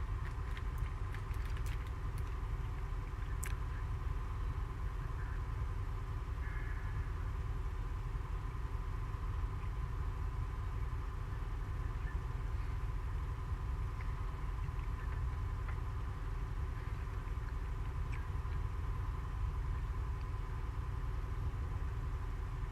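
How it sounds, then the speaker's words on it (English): A truck engine idles in Euro Truck Simulator 2, a steady low drone that holds unchanged throughout with no talk over it. "Just like a constant engine drone"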